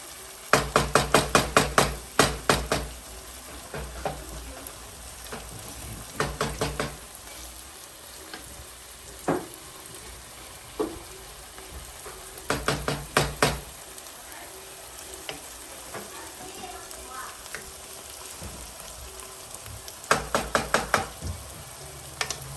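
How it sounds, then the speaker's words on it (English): Onions fry in a pan for sweet samosas under a steady, soft sizzle. Bursts of rapid clattering from the utensil against the pan recur several times as they are stirred. "That's why I keep stirring the onions."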